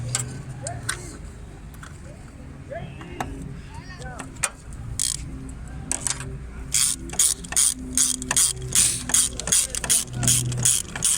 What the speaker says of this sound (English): So also you tighten those screws, then you're done.